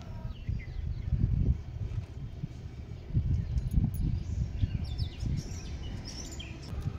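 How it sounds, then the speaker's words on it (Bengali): Morning birds chirp and tweet faintly in a terrace vegetable garden, small scattered calls over a low rumbling background of wind and handling noise. "সকালবেলা পাখির ডাকগুলো কি মিষ্টি লাগে না শুনতে।"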